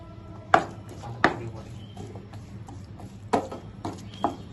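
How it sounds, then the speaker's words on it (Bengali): Dried loitta fish and spices with a splash of water stir-fried in a pan, about five distinct sharp knocks of a spatula against the pan at irregular intervals over a soft low background of cooking. "এখন আমি কষিয়ে নিব"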